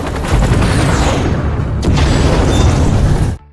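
A loud explosion from an MLRS rocket attack in a war film, a thick booming roar that swells, surges again with a second blast, then cuts off abruptly.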